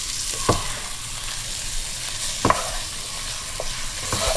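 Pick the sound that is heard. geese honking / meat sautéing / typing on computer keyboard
meat sautéing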